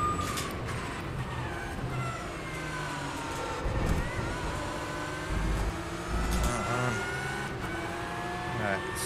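A Porsche Supercup race car in the rFactor 2 racing game, its engine droning and shifting pitch through the gears on the Austria track, heard fairly quietly beneath a person talking.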